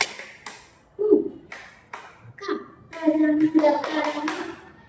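Schoolchildren in an elementary classroom perform the rhythmic scout clap, crisp group hand claps in a patterned sequence punctuated by children's chanted voices.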